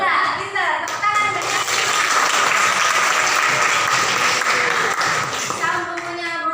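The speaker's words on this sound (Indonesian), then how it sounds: "Tepuk tangan." A classroom full of people, children among them, clapping steadily for several seconds, with voices chattering at the start and end.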